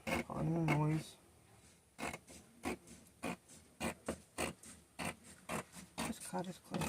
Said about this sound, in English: Just gonna use plain old scissors,